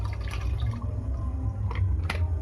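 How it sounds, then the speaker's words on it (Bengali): Water being poured into a 2-litre garden sprayer, a close, steady gurgling fill over a low hum, with a few splashy bursts and no speech. "প্রথমে আমি 2 লিটার জল ভরে নিচ্ছি।"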